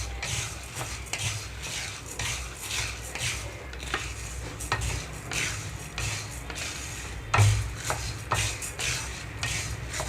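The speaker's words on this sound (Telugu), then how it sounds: "పుట్నాలు పల్లీలు వేసిన తర్వాత 10 నిమిషాల పాటు లో ఫ్లేమ్లో ఉంచి ఇలా వేయించుకుంటున్నాను." Roasted gram and peanuts dry-roasting in a pan on a low flame, stirred with a spoon so the pieces rattle and scrape against the metal in an uneven, repeated rhythm.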